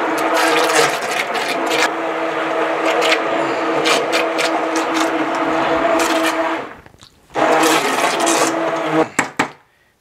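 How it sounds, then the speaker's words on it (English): A loud immersion blender whirs continuously through tomato soup, cutting out briefly, then running again before stopping with a few short bursts. "Back to the immersion blender."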